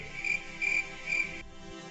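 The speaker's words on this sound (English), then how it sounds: "While I play the crickets." Recorded crickets played back, giving three evenly spaced bursts of bright, steady chirping at moderate loudness, with no talk over them.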